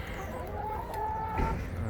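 Chickens cluck and murmur nearby in a muddy garden run, soft repeated clucks over a low outdoor background.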